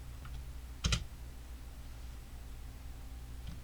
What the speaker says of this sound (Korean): 홈키 누르고 스페이스바,